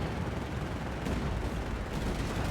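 Shells bounce off British Churchill tanks in Company of Heroes 3, a dense, continuous roar of gunfire and impacts rumbling throughout with a few sharper cracks.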